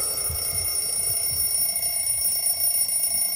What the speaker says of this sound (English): I realized that the cause of this ringing is my alarm clock